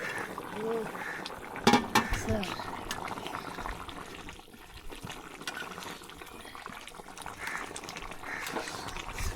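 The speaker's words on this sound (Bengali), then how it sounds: "টকবগে টকবগে উঠতেছে আমাদের হাঁসের মাংসের কষানো মাখানো ঝোল" Duck meat curry bubbles in a pot at an outdoor village cookout by a wetland, soft gurgling and trickling under a person talking, with a brief clank of cookware early on.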